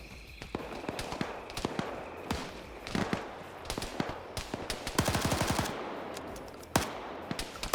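Machine-gun fire in an Arma-style military video game, with bursts of sharp shots scattered across the clip, a dense rapid run in the middle and single loud cracks, over a busy ambient background.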